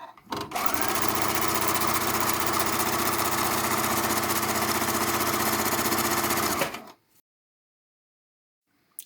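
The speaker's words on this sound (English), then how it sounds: "Now let's try to sew some random piece of fabric." A Husqvarna Prisma 940 sewing machine stitches fabric in a steady, loud, continuous whir for about six seconds close by, then stops abruptly into silence.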